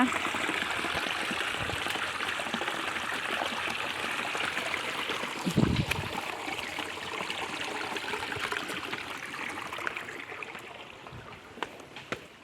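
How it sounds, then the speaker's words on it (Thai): A forest waterfall and stream pour over rocks with a steady, close, broadband rush, marked by a few low thumps and splashes and no voices. "เราก็มาเจอ น้ำตกสวยๆโขดหินสวยๆเลยนะคะ"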